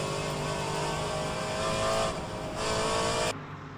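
Race car engine at New Hampshire Motor Speedway during a Buschwackers Series race, droning loud and steady as the driver modulates the throttle, with a brief dip in pitch and a sudden drop near the end.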